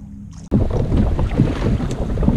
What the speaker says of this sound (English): the wind's really picked up out here today